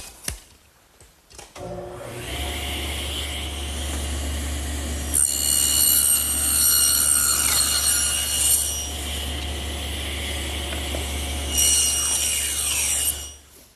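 A table saw cuts rabbets in wooden panel stock for a chest, its blade set low. The motor spins up and runs with a steady hum, and a louder whining cut rises over it twice before the saw winds down at the end.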